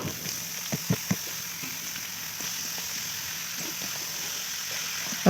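Cabbage curry with potato, tomato and spices fries in a pan, giving a steady, close sizzle with a few soft stirring knocks near the start.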